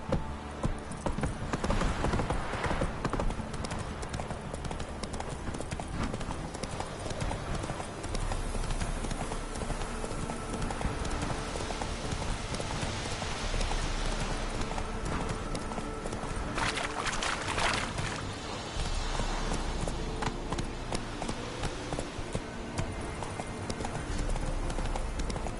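Horse hooves clip-clopping at a steady, rapid rhythm in The Witcher 3: Wild Hunt, close and continuous for the whole stretch, with brief game sounds and a voice surfacing occasionally over the pounding gallop.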